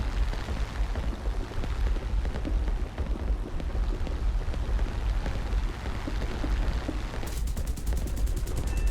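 Hispano cannons on a Typhoon fighter plane in War Thunder fire in a dense, continuous rattling burst over a loud engine roar, steady and close throughout.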